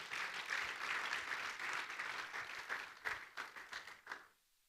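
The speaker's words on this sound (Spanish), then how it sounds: "Démosle palmas al Señor." A church congregation claps together during a Spanish-language service, a steady burst of applause that thins into scattered claps and stops abruptly.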